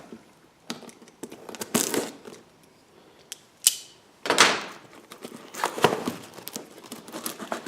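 A cardboard package for a Ford 302 engine swap on a Fox Body being cut and opened, heard as scattered close crinkles, tearing and sharp cuts separated by quiet pauses, with no talking.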